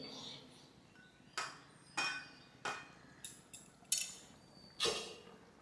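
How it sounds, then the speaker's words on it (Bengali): Metal lid set onto a cooking pot while spicy village-style fish curry simmers, giving a series of sharp clinks and clanks spaced about a second apart, close and fairly quiet. "একটা ঢাকনা দিয়ে এটাকে আমি ঢেকে দিলাম।"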